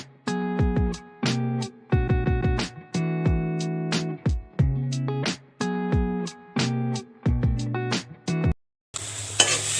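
Dry fish frying in a pan while being stirred, with repeated sharp metallic scrapes and clinks of a spoon against the pan in an uneven rhythm, close up and loud, ending in a brief hissing sizzle.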